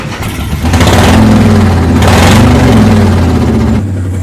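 A monster truck engine starts and settles into a loud, heavy idle, its deep steady rumble filling the scene at close range with no voices.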